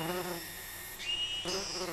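Flies buzzing around a giant Rafflesia flower in an Asian rainforest, a close, continuous whining drone whose pitch shifts as insects move about.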